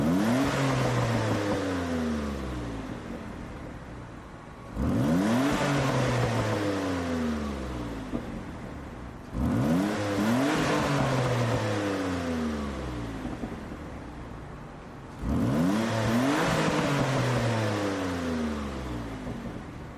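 A 1991 Mitsubishi GTO Twin Turbo in the racing game Gran Turismo 7 revs and accelerates hard through four gear pulls, each ending in a sharp shift, with rising engine tones throughout and no talk.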